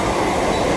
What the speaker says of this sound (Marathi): इथून आपल्याला पुढे लॅव्हेंडर रोडला जायला आपण ट्रेन पकडणार आहोत.